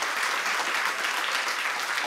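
Sustained audience applause at a live comedy show at a festival, a dense steady wash of clapping hands throughout with no talk on top.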